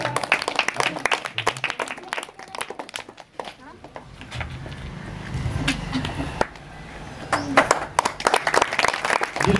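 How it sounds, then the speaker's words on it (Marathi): An audience at a district-office award ceremony in Amravati claps for a student prize-winner, with bursts of applause at the start and end and a spoken announcement heard between them. "जोरदार टाळ्या उद्या"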